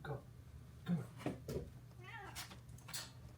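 A cat meows faintly a few times around a farm where hay bales are being loaded, the short wavering calls mixed with a person talking nearby.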